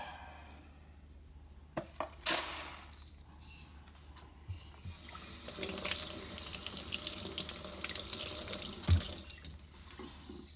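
Fresh tap water runs and splashes through estate tobacco pipes at a sink, a continuous gushing stream with a few sharp clinks and knocks near the start, close by and fairly quiet, with no one speaking.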